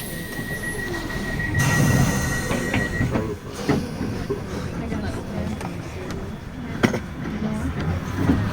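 A London Underground Piccadilly line train runs between Heathrow Terminal 4 and Cockfosters, with a steady interior rumble, metallic wheel squeals and occasional clicks and bangs from the track.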